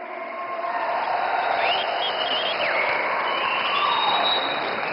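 An audience applauds a speech at a large public event, with dense sustained clapping that stays loud and steady throughout and a faint crowd murmur behind it.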